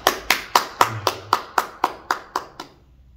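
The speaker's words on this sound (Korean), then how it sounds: "우리 예수님께 찬양과 영광의 박수, 감사의 박수를 올려드리겠습니다." A Korean church congregation claps in praise during a sermon, about ten sharp, evenly spaced claps in unison that end abruptly, followed by near silence.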